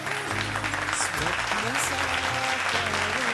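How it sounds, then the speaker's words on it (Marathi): Dense, steady applause from an audience at a Mangalagaur event in Dombivli as a judge is invited onto the stage. The clapping fills the space evenly and stays loud and unbroken, with faint voices mixed in underneath. "जोरदार टाळ्या माईंसाठी वाजूया"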